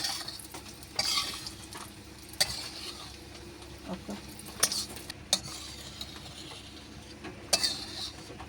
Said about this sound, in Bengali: বেশি জিরে, একটু ভেজেই তুলে নেব।